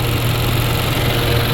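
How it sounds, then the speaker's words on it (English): A Subaru Ascent engine idles steadily with a constant low hum and broadband whir, loud and close, running without change for the whole moment. "Ascent, engine running."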